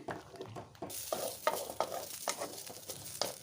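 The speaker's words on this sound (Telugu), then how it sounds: "ఇలా బియ్యాన్ని కూడా మధ్య మధ్యలో కలుపుకుంటూ ఉండాలి" Raw rice being stirred and roasted in a pan, a steady hiss of frying with repeated scraping strokes of the spoon, close and fairly quiet.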